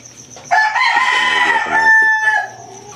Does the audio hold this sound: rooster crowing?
yes